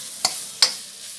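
Curry paste for a duck and yellow curry stir-fry hits a hot pan: two sharp scraping stirs over a faint, steady sizzle, with no talking.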